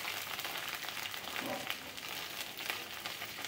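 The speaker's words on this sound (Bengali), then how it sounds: "সেই কারণে রসুনটাকে আমরা একটু সুন্দর করে ভেজে নিচ্ছি।" Garlic frying in a pan while cooking taro leaf greens (kochu shak) with hilsa fish head, a steady close sizzle with soft crackle throughout, no talking.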